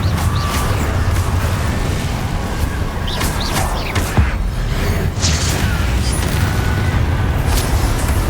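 Incendio fire spell cast in Hogwarts Legacy, a loud, sustained roaring whoosh with crackling bursts and a thud midway, nearly alone with little talk.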